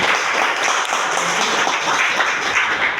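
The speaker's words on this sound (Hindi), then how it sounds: "एक बार जोरदार ताली होनी चाहिए।" Steady audience applause at a Sunday seminar for Mr. Mahipal, a dense wash of many hands clapping at constant loudness with no gaps, filling the whole stretch.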